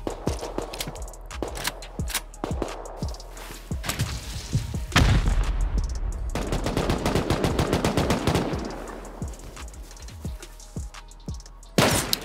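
Rapid bursts of automated turret gunfire rattle in a survival shooter game during a raid, loud and close, with dense repeated shots and a heavier sustained stretch midway; no talking.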